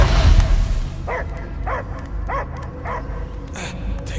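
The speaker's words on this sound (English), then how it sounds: "I hear only barking." A dog in the Guardians of the Galaxy game barks in a run of about six evenly spaced, fairly close yips over a low rumbling background.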